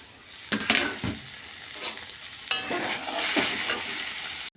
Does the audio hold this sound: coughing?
no